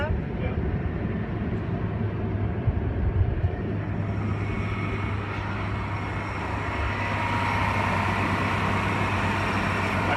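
Chevy G20 van engine held at a steady raised idle around 2,000 RPM while the A/C is charged, a continuous low drone with a droning hum throughout and brief talk over it.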